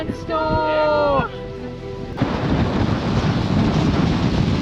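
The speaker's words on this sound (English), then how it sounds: "The wind has really picked up now. It's so windy." Strong wind buffets the microphone on the exposed summit of the Old Man of Storr on the Isle of Skye, a loud steady roar that sets in after a short burst of whistling tones.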